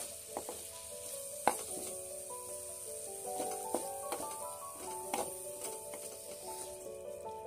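Mushrooms and masala being stirred in a hot pan, a soft steady sizzle under repeated scraping and clinking of a spoon against the pan, fairly quiet with no talking.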